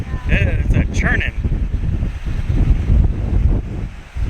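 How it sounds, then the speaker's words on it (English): Rough ocean waves churn and crash along the Aruba coastline in a continuous low rumble, heavily buffeted by wind noise on the microphone, with people talking over it. "Look at those waves. It's a washing machine. It's a churning."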